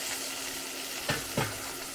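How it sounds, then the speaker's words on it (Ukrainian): Asparagus frying in butter gives a soft, steady hiss close by, with two brief clattering stirs near the end of the short stretch, and nobody speaks. "викладаємо спаржу і поки дві хвилини десь спаржа буде підсмажуватись на вершковому маслі"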